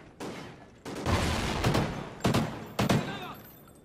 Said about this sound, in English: I am shooting right at him.